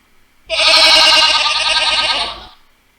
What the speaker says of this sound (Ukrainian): Як подає коза голос? Коза? Що робить? Мекає.